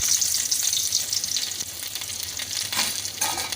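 Garlic sizzles steadily in hot oil, the bright crackling hiss of a Goan fish curry base holding close and loud throughout, with a few stirring scrapes near the end and no voices.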